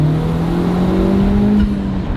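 A Honda Civic Type R with an HKS dry carbon intake drones loudly while driving, its engine tone gliding steadily with a faint whistle riding over continuous road noise.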